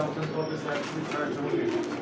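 Pigeons at a pigeon farm in Gaji̇pur coo softly amid a dense, steady background murmur, their low calls close and continuous and partly masked by the busy surroundings.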